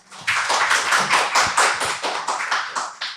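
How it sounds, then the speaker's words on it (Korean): A small audience at a film screening and talk for the documentary 위로공단 claps loudly and close by, the individual hand claps distinct and coming in a quick, fairly even rhythm of bright bursts. "박수 소리가 너무 다른 거 아니에요?"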